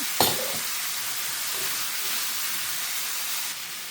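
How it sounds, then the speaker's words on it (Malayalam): Vegetables sauté in a pan for egg and vegetable rice, giving a steady, even sizzle and hiss throughout with a brief clatter near the start, close and alone with no talking. "ഇതൊന്ന് വെന്ത് വരട്ടെ അല്ലെങ്കിൽ വഴറ്റി വരട്ടെ"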